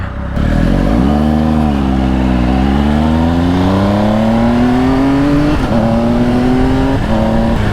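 A 2020 Triumph Speed Triple RS triple-cylinder motorcycle, loud and close, its engine drone climbing steadily in pitch, then dropping abruptly as the quick shifter and auto-blipper change gears down, the pattern repeating with another sharp step near the end.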